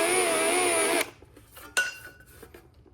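A power drill drives screws into a battery box skin, whirring loudly for about a second before stopping, followed by a short sharp bit of contact noise and quiet handling.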